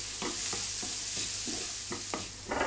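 Chopped onion with salt sautéing in a pan for Kerala-style sardine masala: a steady bright sizzle under regular scraping strokes of a spatula stirring, close and continuous.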